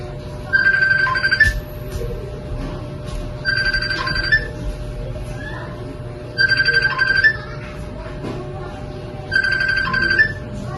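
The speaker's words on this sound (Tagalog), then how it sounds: "May tumatawag." A phone rings with an incoming call, four loud trilling bursts of electronic ringtone repeating about every three seconds over a quiet room hum.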